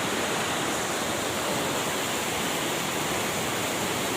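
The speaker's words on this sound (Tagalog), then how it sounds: "Ang lakas ng agos, yan o." A strong river current rushes loudly and steadily on a mountain trek crossing, a dense, unbroken roar of water close by with no voices.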